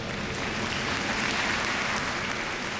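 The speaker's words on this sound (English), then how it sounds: "Quick round of applause for them." A crowd applauding a sponsor at a televised singing competition, producing dense, steady clapping that sounds fairly distant and even throughout, with no clear voices.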